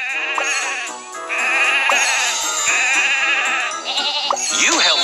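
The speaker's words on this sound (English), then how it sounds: "Some sheep have wandered off from the farm." Loud, repeated sheep bleats sound close up over a bright, steady synthetic backdrop in a Thomas and Friends video game, with a short rising swoosh near the end.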